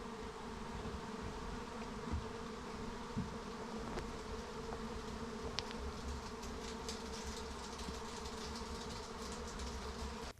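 Honey bees swarm around hives at an apiary on Karacadağ, making a dense, continuous buzz that holds steady throughout with no voices.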